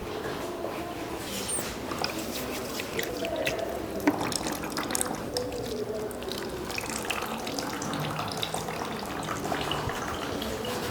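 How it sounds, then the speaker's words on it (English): Tap water runs steadily into a sink during handwashing before a clinical catheterisation procedure, a continuous moderate splash with occasional drips and clatter. "let's go wash our hands"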